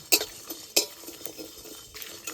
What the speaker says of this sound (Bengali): সব মশলা তো দিয়ে দিয়েছি গোটা মশলা এবার একটু ভেজে নেবো